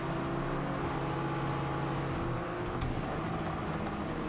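Car engine held in fourth gear high in the rev range in Gran Turismo, a steady droning engine tone that stays loud and constant, with a slight pitch shift midway.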